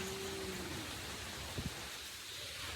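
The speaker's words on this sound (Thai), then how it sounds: "ฝนตกแล้ว" Steady, dense hiss of rain falling, with a brief faint thud in the middle; no voices.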